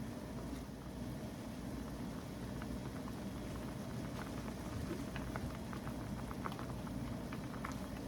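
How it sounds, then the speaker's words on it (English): A pot of homemade chicken and dumplings boils on the stove with a steady bubbling and soft popping patter, close and fairly quiet, with no talking. "Still want it boiling, but you can see how those dumplings are puffing up."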